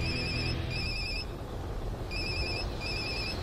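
Electronic telephone ringtone in a film scene, a military colonel's phone call: repeated short bursts of bright trilling rings with brief pauses between them, over a constant loud roaring rumble of engine or aircraft noise.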